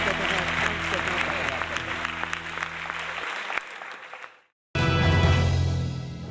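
An audience at an award ceremony applauds in a dense, sustained wash of clapping that cuts off abruptly, then resumes loudly after a brief pause.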